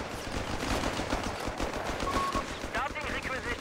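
Machine gun fire in the World War II strategy game Company of Heroes 3, steady dense crackle of bursts mixed with battle noise and a commentator talking over it throughout.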